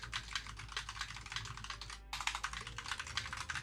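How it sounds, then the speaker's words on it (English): Rapid clacking of a loud computer keyboard fills the space, dense keystrokes in a fast irregular rhythm with a brief pause midway, close and prominent with no talking. "my keyboard's loud"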